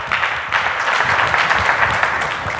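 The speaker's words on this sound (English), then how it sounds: "Clap your hands for the Holy Ghost." A church congregation claps their hands during a sermon, producing steady, dense, energetic applause from many people that continues throughout at a fairly loud level.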